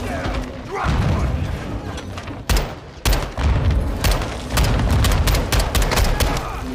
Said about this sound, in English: You're launching grenades!